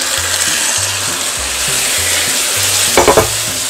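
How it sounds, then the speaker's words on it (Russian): Cabbage casserole fries in oil in a pan with a loud, steady sizzle, broken near the end by a short burst of stirring clatter. "Сейчас на сковородку добавляем масло и будем жарить другую сторону."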